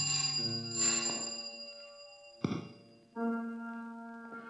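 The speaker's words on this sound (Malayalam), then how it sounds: "ഫോൺ ആരും എടുക്കുന്നില്ലല്ലോ" An old-style telephone in a Malayalam film scene rings unanswered, with repeated bright electronic ring bursts, a brief click, a short pause, and then the ringing starts again, clear and close with no voices.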